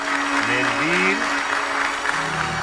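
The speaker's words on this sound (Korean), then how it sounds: "하얀 연기를 본 신도들은 다 함께 기쁨의 환호를 쏟아내는데요" In a film scene, a large crowd of faithful cheers and applauds for a newly chosen pope, a dense, continuous roar of clapping and shouting, with a voice briefly audible over it.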